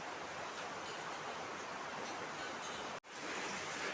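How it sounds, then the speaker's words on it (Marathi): Steady rain falls over a village home in the Konkan region during the monsoon, a dense, even hiss close by and uninterrupted apart from one brief dropout. "पाऊस पडतोय"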